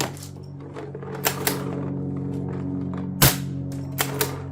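NOVA NX1 Sentinel pump air rifle being fired, a handful of sharp dry cracks spaced irregularly, with one louder shot near the end over a steady low hum.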